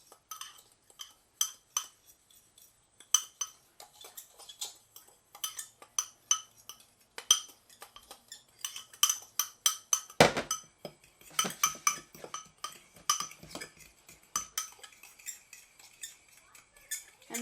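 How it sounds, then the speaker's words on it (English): A fork clinks and scrapes rapidly against a bowl while mixing a cinnamon sugar mixture, in quick irregular bursts of close metallic taps with short pauses between. "So that's why you want to mix it, and I'm using a fork."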